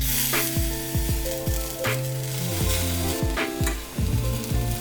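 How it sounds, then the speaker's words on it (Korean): Oven-baked Korean tteok-galbi, grilled beef patties, sizzle on an oiled rack over charcoal, a constant bright hiss that runs under plucked background music with sliding notes. "오븐에서 구워진 떡갈비를 숯불 위로 올려주세요"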